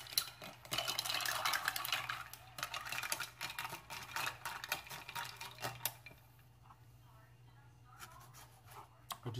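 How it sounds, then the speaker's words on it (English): Ice cubes clink and rattle against a glass as a margarita is stirred, a close, busy jingle that fades out partway through before a few last knocks, with a voice talking faintly over it. "I'll just put in 5 cubes of ice. Give it a nice stir."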